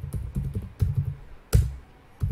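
Keys on a computer keyboard are pressed to enter a terminal command: a quiet, close run of separate clicks in small irregular bursts, with one sharper keystroke near the middle and no voices.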